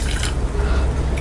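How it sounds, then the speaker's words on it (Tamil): Water is poured into sugar in a pan to make sugar syrup for atta malpua, giving a close, wet trickling and splashing that runs throughout without talk. "எவ்வளோ வந்து நம்ம சர்க்கரை போட்டோமோ அதே அளவுக்கு தண்ணி விட்டுக்கலாம்."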